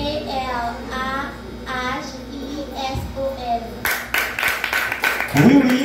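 Classroom applause at a school spelling contest in Camp-Perrin: a voice speaks, then from about four seconds a burst of many hands clapping rises loudly, with an adult voice joining at the end.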